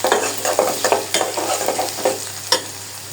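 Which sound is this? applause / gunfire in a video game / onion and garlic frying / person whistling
onion and garlic frying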